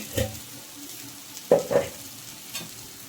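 Small bitter gourd (kakarakaya) frying in a pan with chili powder, sugar and a spoon. A low sizzle runs throughout, broken by a few distinct scrapes and clinks of the spoon against the pan. No one talks.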